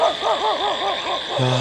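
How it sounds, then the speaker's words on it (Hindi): Dogs bark repeatedly at night in an outdoor graveyard setting, a fast regular series of yapping barks at middle distance over a constant high hiss, ending with a short spoken word. "कुत्ते भी भौंक रहे हैं।"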